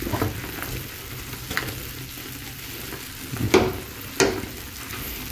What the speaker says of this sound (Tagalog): Tingnan po natin yung niluluto natin. Ayan, kuluan na po.